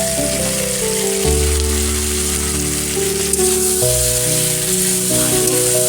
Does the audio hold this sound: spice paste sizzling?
yes